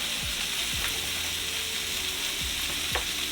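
Shrimp stir fry with bok choy and mushrooms sizzles loudly in a hot pan, a dense, unbroken crackle with a few soft stirring scrapes along the way.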